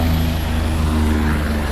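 Helicopter at a helipad in Medaram during the Sammakka Saralamma Jatara, a loud, steady engine and rotor drone with a low pulsing hum running throughout.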